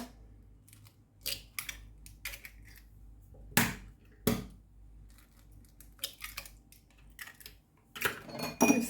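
Whisking two eggs with sugar and salt in a bowl, irregular clinking and scraping strokes of a utensil against the bowl, close and fairly quiet with pauses between bursts.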